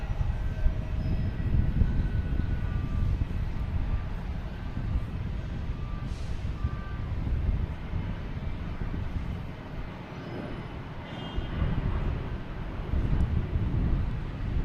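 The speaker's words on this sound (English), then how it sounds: "We have a Delta 737-900 coming in from Louis Armstrong International Airport. And it's a go-around." A Delta Boeing 737-900 airliner on a go-around at Boston Logan Airport roars loudly and continuously overhead, a broad sustained rumble with gusting wind, fairly close and steady throughout.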